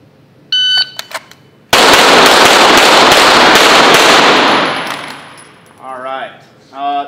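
A shot timer beeps once, then rapid pistol shots fire in a loud, close, continuous string on a shooting range before dying away. A voice speaks briefly at the end.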